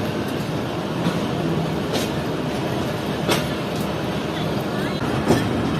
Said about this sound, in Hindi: तो हमारी ट्रेन आगे बढ़ते हुए